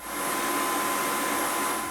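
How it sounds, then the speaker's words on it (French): A Mova X4 Pro wet-dry vacuum cleaner runs with a steady, even whooshing roar at close range, unbroken for the whole stretch and with no talking. "globalement, cet aspirateur laveur est plus discret que la moyenne"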